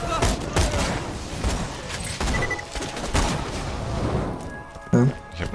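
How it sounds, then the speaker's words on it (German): In Borderlands 2, a grenade thrown at a barrel sets off loud explosive blasts and gunfire bursts in a busy game mix, with people talking over the action. "Ich hab ne Granate auf das Fass geworfen."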